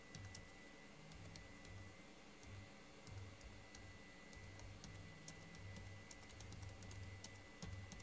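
A computer keyboard is typed on in steady, fairly quiet clicks, with irregular bursts of keystrokes over a low background hum and no talking.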